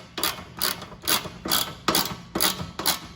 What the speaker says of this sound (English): you want to push up on the bar and then tighten down the nut the rest of the way